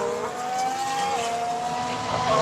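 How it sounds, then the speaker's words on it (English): A McLaren Formula 1 car on track during testing, its engine a loud, sustained high-pitched whine with shifting pitch as it accelerates past, up close and without talk. "we got the McLaren out on track"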